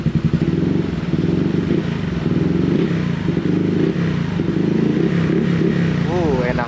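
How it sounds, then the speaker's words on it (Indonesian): A bored-up Honda PCX 160 scooter engine is revved repeatedly from idle, a loud continuous buzzing drone with rising and falling pulses, close by, over the whole stretch. "Kalau dari langsam sih kita mainin geber-geber nih."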